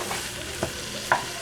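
Ground beef cooking in a single pot for sloppy joe soup, a soft low sizzle under two brief scraping stirs of a utensil, quiet and close.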